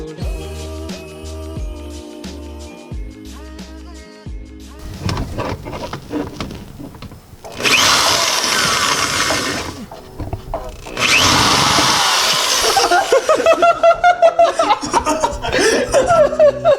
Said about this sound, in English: There's a spot right here that I can drill for another zip tie first.